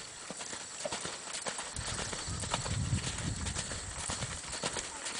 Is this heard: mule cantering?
yes